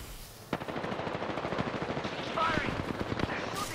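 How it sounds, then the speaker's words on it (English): Rapid bursts of video game gunfire crackle through a team firefight, dense automatic shots and sharp single reports packed together at steady loudness, with voices calling out among them. "They're shooting at me."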